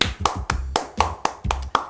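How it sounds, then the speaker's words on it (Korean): Hands clap in a steady, evenly spaced rhythm, about eight sharp claps in under two seconds, close and crisp with no talk over them. "박수."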